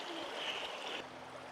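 Creek water runs steadily through a redwood forest in spring, a continuous close rush and trickle that drops slightly in level partway through.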